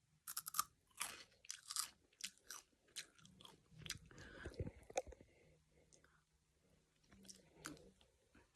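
Chiki Twist, a spicy Indonesian puffed snack, crunched close to the mic in repeated crisp bites and chewing, with soft breathy murmurs in between.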